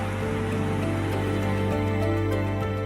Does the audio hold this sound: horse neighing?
no